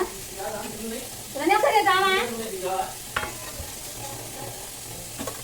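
Urad dal and mustard seeds tempering in plenty of hot oil for a festive Ugadi meal, crackling and sizzling close by while someone talks over it, with a few sharp pops toward the end.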